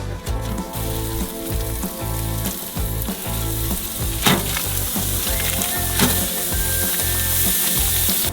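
Steady, loud sizzling of burger patties cooking on a hot grill, crackling continuously with a faint rhythmic mechanical ticking underneath.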